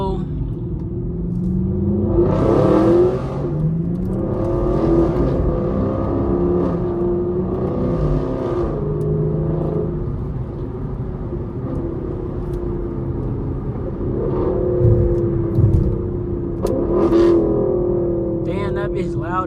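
Loud exhaust on a Hellcat car revs up and down repeatedly, a deep rumbling growl with rising and falling pitch, close by and sustained.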